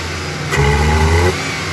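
A Maruti Suzuki WagonR K10 engine misfiring when hot, idling close by and briefly revved with a slightly uneven hum before settling back to idle.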